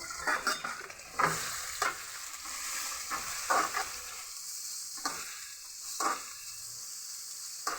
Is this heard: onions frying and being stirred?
yes